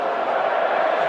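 Fremantle fans cheering in a packed stadium at a 2022 Collingwood vs Fremantle semi final, a steady distant roar of crowd noise without clear breaks.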